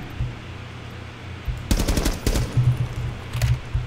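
Close automatic gunfire in Rainbow Six Siege, several sharp bursts of rapid shots over a few seconds against a low background hum.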